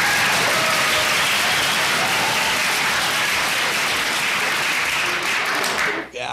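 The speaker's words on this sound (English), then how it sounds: "hey, big claps to all that stuff" Dense, steady applause from a crowd, loud and close, with many hands clapping continuously for about six seconds before cutting off abruptly at the end; no voices stand out.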